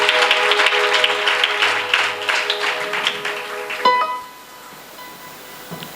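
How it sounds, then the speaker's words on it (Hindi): A church congregation claps together in a dense, rhythmic burst of applause under a sustained tonal hum, then the clapping stops abruptly, leaving quieter room sound with a faint lingering tone. "जिनको बात पसंद है वे तालियां बजाएंगे।"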